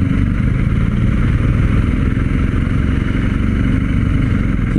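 BMW R 1250 GS motorcycle riding, a steady, loud engine drone with dense low rumble holding constant throughout, no speech heard.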